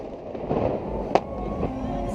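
Fireworks over the water in Sarasota, one brief distant pop rising out of a steady wash of background rumble and noise.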